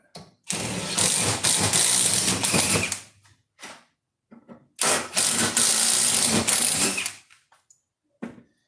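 Two loud bursts of grinding, rattling machinery from a trailer work bench mechanism pushed hard, each lasting a couple of seconds, with a short knock between them and a faint click at the end.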